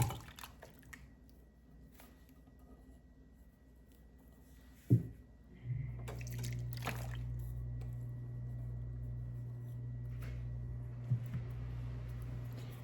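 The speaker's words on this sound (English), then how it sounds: "I'm gonna add the 2 cans of diced tomatoes with the juice." Canned diced tomatoes with their juice are poured into a pot, giving soft wet squishing and dripping with a sharp plop, then a steady low pouring hum and a few later splats, quiet and close with no talking.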